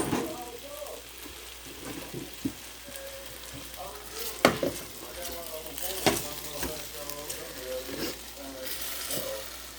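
Potatoes frying in a hot skillet give off a steady, close sizzle and crackle with occasional stirring scrapes and pops, while a person talks over the cooking.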